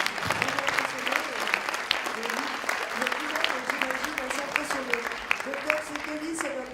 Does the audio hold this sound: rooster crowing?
no